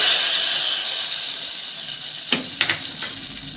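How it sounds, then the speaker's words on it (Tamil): Cumin seeds and urad dal sizzling in hot oil for tempering, a steady bright hiss close up, then a few sharp crackles and spits near the end. "இப்போ ஜீரகம் போட்டுக்கிறேன் இப்போ கருகாப்பில் இதை தாளிச்சு இதில் கொட்டிட்டு"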